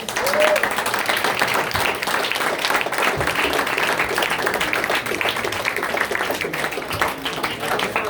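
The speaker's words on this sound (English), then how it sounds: "Let's give our debaters a big round of applause." An audience at a debate event applauds the debaters, steady clapping from a room crowd sustained for about eight seconds at moderate level, with some voices mixed in.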